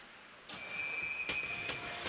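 A referee's whistle at a college soccer match between Rider and Montclair State sounds as a sustained shrill tone lasting over a second, with sharp ball or crowd impacts around it in an open outdoor setting.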